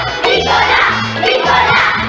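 Children in a studio audience at a bowling contest shout and cheer loudly together, a dense excited crowd roar that surges in waves.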